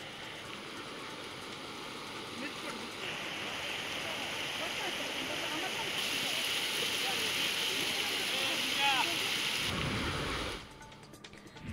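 Heavy monsoon rain around Dongarsoni with swollen streams and drains rushing, a steady broad roar of flowing water and downpour that holds for most of the stretch before dropping off near the end.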